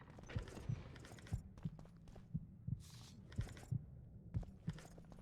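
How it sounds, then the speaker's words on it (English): Heartbeat sound effect in The Witcher 2 video game, a steady low double thump repeating roughly every second, moderately loud over a faint ambient hum with brief hissy game noises. "this heartbeat noise is fucking annoying"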